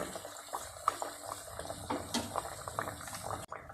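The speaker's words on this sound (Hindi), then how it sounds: "अब मैं दूसरा फ्राई करने लगी हूँ" Sweet tikray dough fries in hot oil, bubbling and crackling continuously at close range, with a few sharper pops over the steady sizzle.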